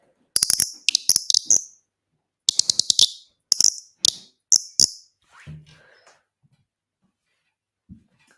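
Rapid, high trilling chirps from a bird-call whistle come in several short bursts, close and bright, followed by quiet with a few faint clicks.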